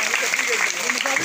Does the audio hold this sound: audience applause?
yes